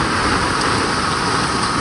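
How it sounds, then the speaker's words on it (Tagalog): Heavy rain and strong gusting wind lash a glamping resort in Cavinti, Laguna, a steady, dense roar of downpour and wind noise filling the whole stretch, loud and close with no talk. "Ito nyo, ang lakas ng hangin tsaka ulan."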